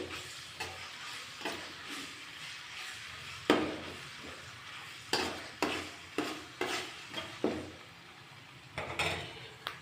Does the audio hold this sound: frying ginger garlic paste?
yes